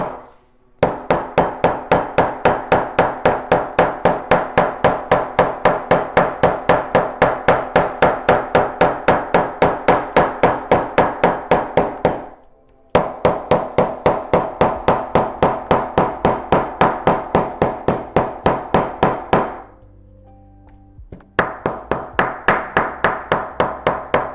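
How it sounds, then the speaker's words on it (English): Rapid, steady hammer blows ring out loud and close, a long unbroken run of evenly spaced strikes that stops briefly twice before resuming, with no speech over it. "let's do some hammering"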